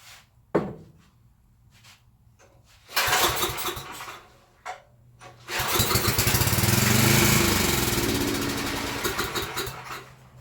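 A Coleman Powermate 6250 generator engine is pulled over with a few brief cranks, sputters, then catches and roars into a loud, steady run nearby.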